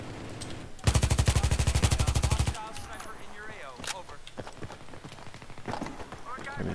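ACW-R rifle fired in Battlefield 3: a loud rapid automatic burst of around twenty closely spaced shots, followed by scattered battlefield noise and someone talking.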